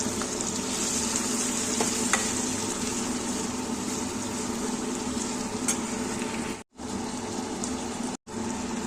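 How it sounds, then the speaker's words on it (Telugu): Chopped tomatoes fry in a pan with a dense, even sizzle like rain on a surface, close and steady, with two brief silent cuts near the end and no talk. "కట్ చేసి పెట్టుకున్న టమోటాలు వేసి వేయించుకుందాం"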